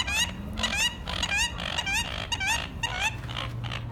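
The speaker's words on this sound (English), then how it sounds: "While we have these ducks going off over here" Waterfowl honking and quacking close by outdoors, a run of repeated loud nasal calls in quick bursts, several birds overlapping, with no talk.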